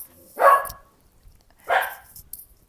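A dog indoors barking at other dogs passing on the sidewalk, two loud, separate barks about a second apart, with a faint third yip near the end.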